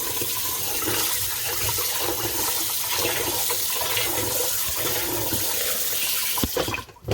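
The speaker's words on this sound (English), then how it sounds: "so I'm just going to keep washing this until it runs clear" Glutinous rice being washed under running water, a loud, steady close-up rush and splash that continues without a break before cutting off at the end.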